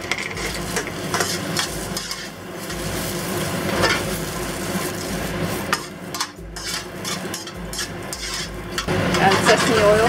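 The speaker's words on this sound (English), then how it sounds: "Add oil. Add the rest of the garlic. Add in the shiitake mushroom." Garlic and shiitake mushrooms sizzle in hot oil in a pan over medium-high heat, crackling steadily and close, with scraping and stirring throughout.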